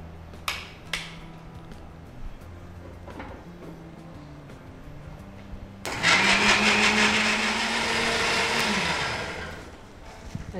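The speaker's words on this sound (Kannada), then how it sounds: "ನೈಸಾಗಿ ಗ್ರೈಂಡ್ ಆಗಬೇಕು" A mixer grinder grinding paste for shahi paneer starts abruptly and runs loudly for about three seconds with a harsh whirring motor, then winds down; a few clinks and soft knocks come before it.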